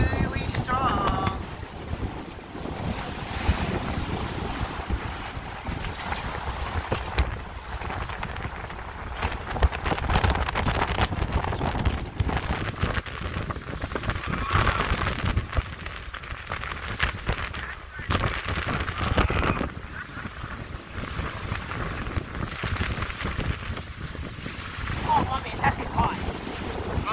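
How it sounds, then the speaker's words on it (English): Strong wind buffets the microphone on a state park shore, with gusty roaring and rumbling over waves lapping, steady and loud throughout without talking. "The wind is really strong."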